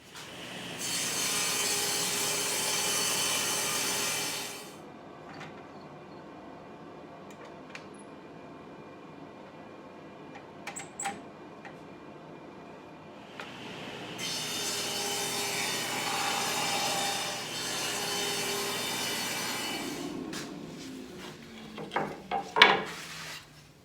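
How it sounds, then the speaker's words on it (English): A saw slicing thin strips off a wooden piece run on a sled, two long steady cutting passes with a quiet pause between, close and loud, followed by a few knocks and handling clatters. "We're going to run this through and just cut off"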